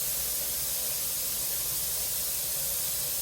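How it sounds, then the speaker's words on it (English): A pressure canner full of dry black beans vents steam in a steady, even hiss. The sound is close and continuous, with no talking over it. "And you can see the steam coming up."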